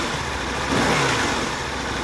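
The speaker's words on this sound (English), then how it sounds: "That's a 1000cc V-twin." Aprilia ETV1000 Caponord motorcycle with a 1000cc V-twin engine running, a smooth steady engine drone close by with a slight swell in the middle, no voices.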